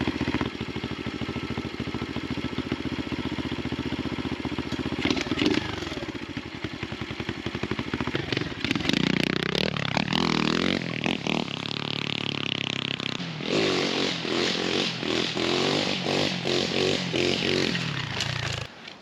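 A Chinese Xpro pit bike's small engine running a little rich with the choke off, a close, loud buzzing idle that rises and falls through revs and a rising rev sweep, with mechanical clatter.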